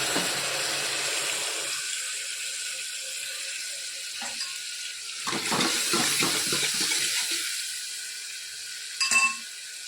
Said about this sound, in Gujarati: જરાક પાણી નાખીએ.